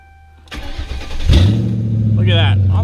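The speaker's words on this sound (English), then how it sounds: "Now on the 4th time, we're actually gonna start the car." A Ford Crown Victoria engine cranks with a starter whir, catches with a loud burst and settles into a steady, rumbling idle close by, after a quiet start.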